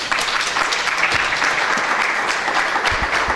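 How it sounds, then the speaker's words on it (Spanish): A church congregation breaks into vigorous applause, a dense, steady burst of many hands clapping close by that holds evenly for a few seconds. "¿Cuánto le dan un aplauso al Señor?"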